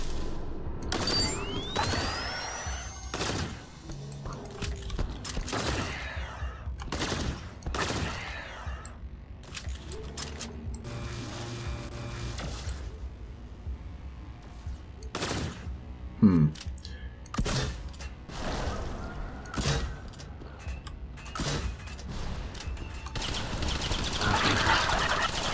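Gunfire in the retro first-person shooter STRAFE (Millennium Edition): scattered bursts of sharp, loud shots and clattering hits over a constant din of game noise, with a brief burst that quickly dies away.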